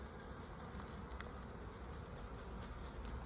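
Honeybees hum steadily at an established hive crowded with bees, a faint, even, continuous drone with no voices over it.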